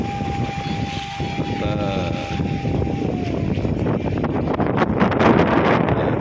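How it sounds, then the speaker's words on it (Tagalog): Strong wind roars and buffets the microphone continuously at a lake, with a steady high whine running through the first half and gusts swelling toward the end. "napakalakas talaga ng hangin, promise, napakalakas ng hangin."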